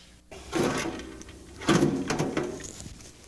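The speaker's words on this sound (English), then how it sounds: "The ash pan is located beneath the ash lip and is removed by turning the knob and pulling the ash pan out." A metal ash pan slides out of an Avalon pellet stove, two distinct scraping, sliding clunks about a second apart, close and moderately quiet, with no talking.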